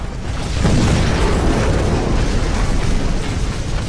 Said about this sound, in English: you don't kill yourself with your own nuclear explosion like I do right here